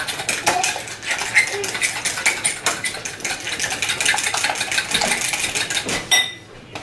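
Spoon mixing cinnamon into a breakfast dish, fast repeated metal scraping and clinking against a bowl, loud and close, a continuous rhythmic clatter that stops abruptly near the end.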